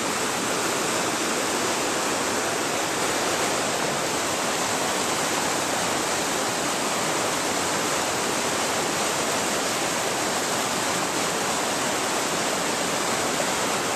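Stream water flowing steadily, a dense, loud, unbroken rushing wash with no pauses or voices, close to the source.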